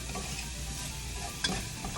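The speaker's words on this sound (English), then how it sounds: "the garlic and the onions are almost fully sauteed" Garlic and onions sautéing in a pan sizzle steadily and close, with a brief utensil clink partway through and no talking.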